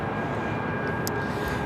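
Steady broadband roar of a jet airliner at LAX, constant and fairly loud throughout, with no talk over it.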